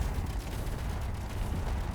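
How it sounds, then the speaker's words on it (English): Battlecruiser turret gunfire in Space Engineers forms a dense, continuous, loud roar of rapid shots with no pauses, close and overwhelming. "there's the gunfire"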